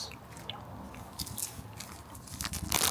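Close, quiet crunching and chewing of food, with soft irregular bites and munching sounds growing slightly louder toward the end.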